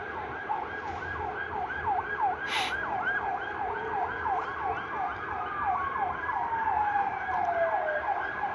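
A fire engine siren at a fire in Ataköy wails in steady, repeating rising-and-falling sweeps, fairly loud and close, over a constant rumble of road traffic.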